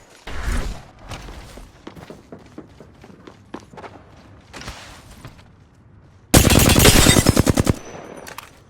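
Gunfire in the Apex Legends video game: scattered single shots and footsteps, then a loud dense burst of rapid automatic fire near the end, close and sharp.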